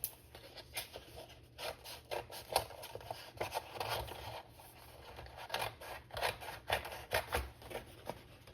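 Scissors trim a paper scrapbook layout, giving a series of soft, crisp snips and rustles close by, fairly quiet and irregular throughout.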